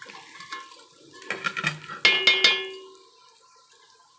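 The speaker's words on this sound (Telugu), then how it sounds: "ఇందులో లివర్ వేసినాం కాబట్టి చిట్పట్లాడుతుంది." Chicken liver frying in hot oil for a Telangana-style chicken fry gives off a short cluster of sharp crackles and pops. The bursts are moderately loud, then fade to near quiet.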